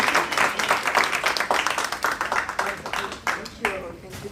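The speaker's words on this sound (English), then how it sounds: "Round of applause." Audience applause at a community academic event, a dense burst of clapping that gradually thins and fades over a few seconds, with speech-like sounds mixed in.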